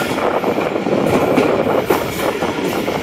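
Allama Iqbal Express passenger train with a ZCU30 locomotive in the lead rolls past close by, a steady loud rumble of wagons and wheels with light rail clatter throughout, no talk.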